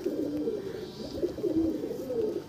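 Andhra pigeons, including a female, give soft repeated throaty coos in a slow rolling rhythm, close by and fairly quiet with no voices.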